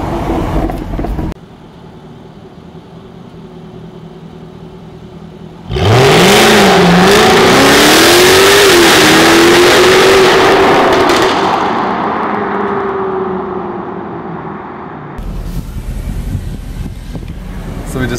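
A car doing launches: the engine sits at a steady idle, then revs hard and accelerates away, holding a loud, rising and falling roar for about ten seconds before fading into road noise.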